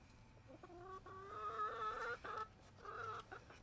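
Chickens cluck in a backyard coop, a few hens sounding off in short bursts with brief pauses between them, close and fairly clear, with no voices over them.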